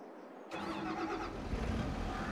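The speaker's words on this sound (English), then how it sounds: "let's hop on into our tractor here" A tractor engine in Farming Simulator 22 cranks and catches after a moment of silence, then settles into a close, steady mechanical rumble that swells slightly toward the end.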